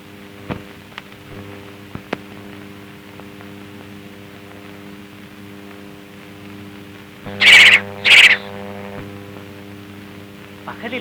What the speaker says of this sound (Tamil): பகலில் ஆந்தை குரல்.